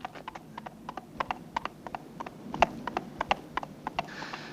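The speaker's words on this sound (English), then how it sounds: "Do you see a horse? Indeed I do. That looks like the rag and bone man's animal." The rag and bone man's horse clip-clops along, a steady run of sharp hoof strikes at a walking pace, moderately near and heard alone without talk.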